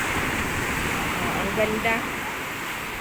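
Pacific Ocean waves break and wash continuously in a broad, roaring surf noise close by, with a person speaking briefly over the rushing water.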